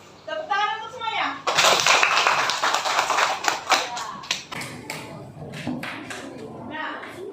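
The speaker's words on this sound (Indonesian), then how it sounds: "Tepuk tangan untuk semuanya" Sixth-grade students clapping in a classroom, a burst of sharp, close hand claps mixed with children's voices, fading into scattered claps while a teacher talks.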